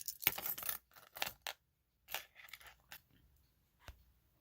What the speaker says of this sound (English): And also if I put my keys on here